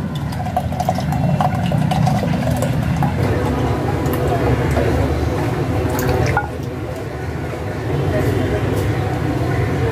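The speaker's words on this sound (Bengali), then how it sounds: "এখন আমি ক্যারামেল মিশ্রিত দুধটুকু অবশিষ্ট দুধের সাথে মিশিয়ে নেব" Caramel-mixed milk is poured into the remaining milk for a double-layer pudding, giving a continuous liquid trickle and splash close by, heard under a steady background hum.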